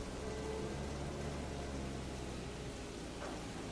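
Heavy rain weather effect in the Planet Coaster 2 video game, a steady loud broadband hiss of rainfall with a low rumbling bed running throughout, no voices.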